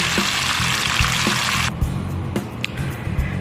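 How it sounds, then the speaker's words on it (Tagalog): Water is poured into a pot for a whole-chicken soup, a steady broadband rush lasting about two seconds that then cuts off, followed by a few faint clinks and low handling sounds. "ngayon, lalagyan na natin siya ng tubig"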